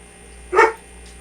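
A dog gives a single short, sharp bark against a quiet background.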